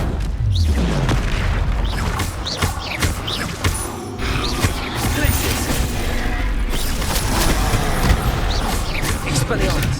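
Blasting-spell explosions from combat in Hogwarts Legacy, with repeated deep booms and crackling bursts through the whole stretch, while a voice calls out spell names over the fighting.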